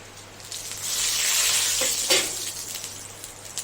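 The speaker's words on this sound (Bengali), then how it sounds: "জিরা তেজপাতা ফোড়ন দেবো শুকনো লঙ্কা" Cumin seeds, bay leaf and dried chilli crackle in hot oil, a broad hiss that swells and then fades, with a couple of brief sputters near the end and no talk.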